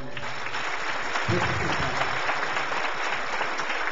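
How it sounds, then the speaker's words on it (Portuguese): Applause in a church congregation during a sermon, a dense, steady wash of clapping filling the space at moderate loudness for a few seconds, with faint voices beneath. "Aplauda Jesus por ele."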